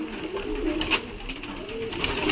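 Soft, repeated cooing comes from a black diamond pigeon nearby, a low, murmuring call that continues without pause over a faint hiss of room noise.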